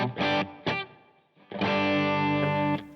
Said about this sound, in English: it's just a subtle 70s reverb setting